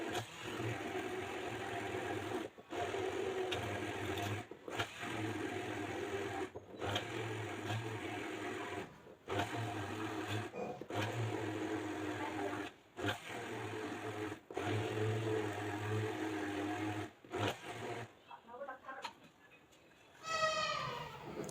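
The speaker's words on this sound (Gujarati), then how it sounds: "એટલે હું એમાં ગ્રાઇન્ડર ફેરવું છું." An electric kitchen grinder whirs steadily in repeated bursts with short pauses between them while grinding sambar for idli, then stops, leaving quieter clatter at the end.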